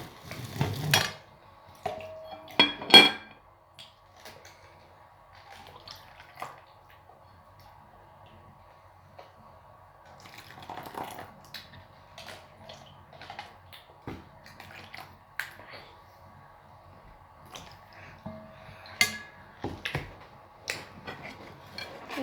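Pancake batter with milk being stirred in a bowl, heard as sparse, quiet clinks and taps of a utensil against the bowl with faint wet mixing in between, irregular and close up.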